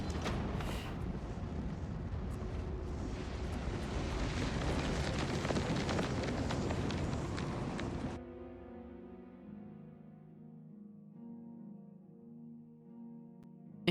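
A roaring, rumbling blast from an exploding sun in the video game The Elder Scrolls IV: Oblivion Remastered fills the first eight seconds, then cuts off abruptly to a quiet, low tonal hum.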